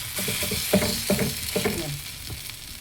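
Food is flipped as it sizzles in a pan on the stove, with a few sharp clinks and scrapes of the utensil over a steady frying hiss, close and moderately loud.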